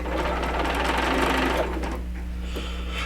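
A B435 sewing machine running in a studio, a steady close mechanical whir with a low hum that stitches continuously for about a second and a half, then winds down to a quieter idle with faint clicks.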